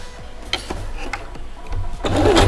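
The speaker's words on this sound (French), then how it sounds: "je le plie un petit chouille en deux et je fais une petite couture droite" Sewing machine stitching a straight seam on folded bias binding for a bib, a rapid mechanical rattle of needle strokes that builds louder toward the end, heard close by.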